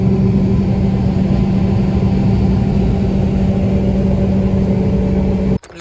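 A tractor pulls a grain cart during a hazy nighttime wheat harvest, its engine a loud, steady mid-pitched drone that holds constant for several seconds before cutting off abruptly.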